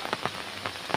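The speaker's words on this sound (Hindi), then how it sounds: "और अभी बारिश हो रहा है, दो तीन दिन से बारिश हो रहा है असम में" Rain falls steadily during a morning walk in Assam, a dense even hiss of drops hitting surfaces nearby with faint soft patters pulsing through, and no voices.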